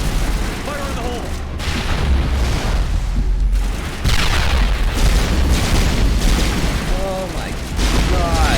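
Booming explosions from a grenade blast in Mass Effect 1 Legendary Edition, a loud, sustained rumble of low blasts and combat noise running through the whole stretch while a player exclaims over it.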